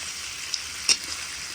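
Pig intestines and blood frying in a pan, a steady close sizzle and hiss that holds throughout, with a couple of brief sharper pops.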